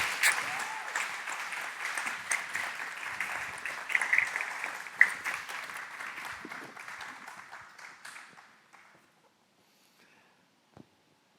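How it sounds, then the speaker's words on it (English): Steady audience applause for panel guests walking up to a stage, a dense wash of clapping that holds for about eight seconds, then fades quickly into near silence. "Would you give them a round of applause as they make their way to the stage?"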